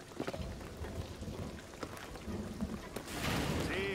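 Steady rain falling in the video game Shadow of the Tomb Raider, a soft continuous patter of drops on surfaces that swells louder toward the end, faint beneath the scene.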